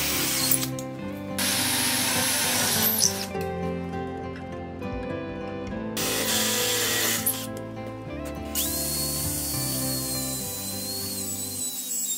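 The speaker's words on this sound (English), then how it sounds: "I drilled my holes at a 30 degree angle." A power drill bores holes at a 30-degree angle into wood through a drill guide for a DIY mug rack, coming in several loud bursts of whirring over steady background music.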